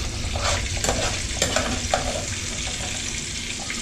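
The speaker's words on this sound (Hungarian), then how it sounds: "Ugyan ebbe a úgynevezett zsírba beleteszünk egy darab vastag szelet paradicsomot." A thick slice of tomato frying in hot fat for an English breakfast, giving a steady, close, loud sizzle with crackles and the clatter of stirring, and no voices.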